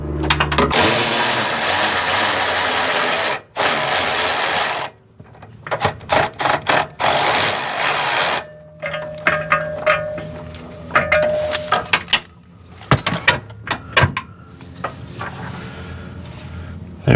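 Ratchet clicking and metallic tool noise while loosening suspension bolts on a 2WD Toyota RAV4, with bursts of rapid ratcheting broken by pauses and clanks, close and loud.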